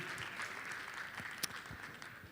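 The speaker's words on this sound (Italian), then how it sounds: "accogliamo con un applauso gli ospiti Lucia Dagnotti e Antonio Fogliadelli" An audience applauds to welcome guests at the start of an Italian talk event, a faint, steady patter of clapping with one sharper clap standing out.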